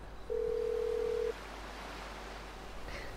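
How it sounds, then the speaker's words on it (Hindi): A phone in GTA V dials a taxi: one steady electronic tone held for about a second, then quiet background hiss before a faint swell at the end. "अब मुझे तो टैक्सी वाले का फोन लगाता हूँ आएगा क्या यहाँ पे"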